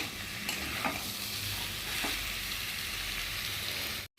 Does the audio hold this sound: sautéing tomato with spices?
yes